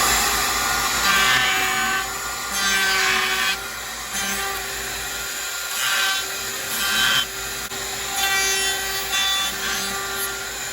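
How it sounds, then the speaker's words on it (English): A high-pitched router whines steadily as it cuts a 1/4 inch round-over on a knife handle, its pitch and loudness swelling in several bursts over about eleven seconds, with no talking. "run it through the router and run a 1/4 inch round over radius over the whole"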